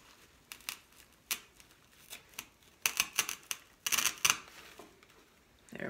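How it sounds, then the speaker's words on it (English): Big, huge scissors cutting during a Dollar Tree craft project, a series of crisp snipping clicks in an uneven rhythm that quicken and cluster toward the end, close and fairly quiet. "you see I got these big, huge scissors. We're gonna just cut"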